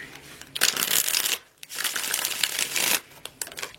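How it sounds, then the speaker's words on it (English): A deck of tarot cards is shuffled in two long riffling bursts separated by a short pause, then a few lighter card flicks, close and fairly quiet with no voices. "One more shuffle."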